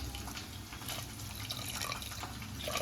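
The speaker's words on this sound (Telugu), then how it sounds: "దీంట్లో ఇప్పుడు తగిన వాటర్ అయితే పోసుకుందాం. ఫ్రెండ్స్ నేనైతే వేడి నీళ్ళు పోస్తాను." Hot water pours steadily into a pot of dal for Nellore-style pappu charu, a continuous close splashing and trickling that runs unbroken for about three seconds with no talk.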